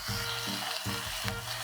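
Pieces of boar meat frying in a pan over a campfire, a steady close sizzle running under a repeating low tonal hum in even pulses, with no voices.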